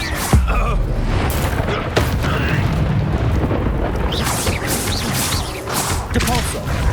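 A Confringo spell blast in Hogwarts Legacy booms amid a dense, loud wash of rumbling explosions and crackling debris, with voices mixed into the chaotic combat noise.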